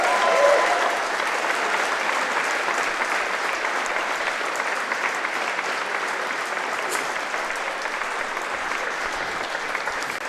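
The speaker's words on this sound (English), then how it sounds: "Put your hands together for the new senior singles champion, Fiona Tully." Sustained audience applause at a handball championship ceremony, saluting the new senior singles champion in a four-wall court; dense, steady clapping from a large crowd, loud throughout with no speech.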